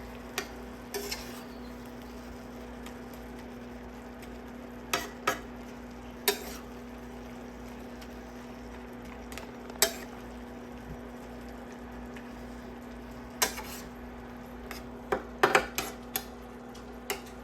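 Ground taco meat being stirred and flipped in a pan, a faint steady sizzle with scattered scraping and spatula knocks against the pan, sparse and close, rising into a quick cluster of clatters near the end.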